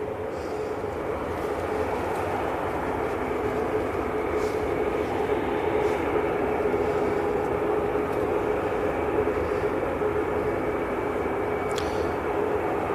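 EasyJet Airbus A320 departing Manchester Airport for Alicante, a steady distant engine rumble with a faint whine, moderately quiet and constant, with occasional small clicks.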